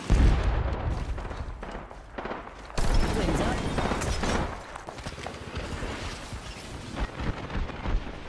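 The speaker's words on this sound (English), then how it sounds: "Box 3, launching missiles." Valkyrie firing a volley of missiles in Apex Legends, booming launches and blasts rumbling in waves under a voice calling out.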